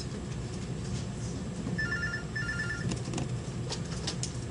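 A telephone rings twice in short electronic trills, each lasting about half a second, fairly quiet above a steady background hum and rumble.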